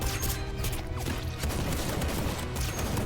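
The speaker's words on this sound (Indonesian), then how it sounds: "lalu terlihat dari belakang ada Gayong yang menembak ke arah mereka, lalu keadaan pun menjadi chaos" Gunfire erupts in a chaotic shootout scene from the Korean action film The Childe, a dense burst of shots and crashes over a loud, continuous movie soundtrack for about three seconds.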